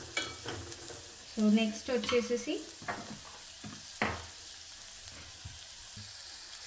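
Turmeric is stirred into a frying mixture for a high-protein salad, with a spoon scraping and knocking in the pan over a gentle sizzle. A voice speaks briefly near the start.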